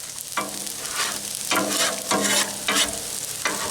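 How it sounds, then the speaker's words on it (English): Beaten eggs for chicken fried rice cooking in a hot pan, with a loud continuous sizzle and bursts of stirring and scraping every second or so, close up and without talk. "And now we're just going to pour those eggs."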